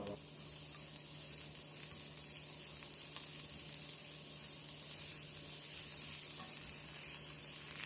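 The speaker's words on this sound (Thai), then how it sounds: "พอน้ำมันร้อนก็ใส่กระเทียมสับสองช้อนโต๊ะ" A steady, hissing sizzle of chopped garlic frying in hot vegetable oil continues evenly, with faint crackles scattered throughout and no talking.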